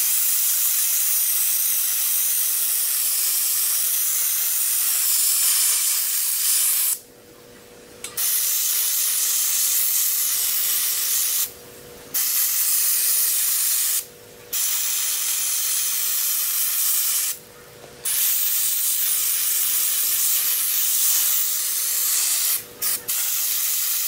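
A sandblaster sprays cheap play sand media to strip paint, a loud, steady rushing hiss in long bursts separated by several short pauses.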